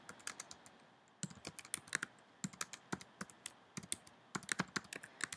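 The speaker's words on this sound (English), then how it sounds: "So you just type in your question." A question being typed on a computer keyboard, heard as fast, close, irregular bursts of crisp key clicks separated by brief pauses.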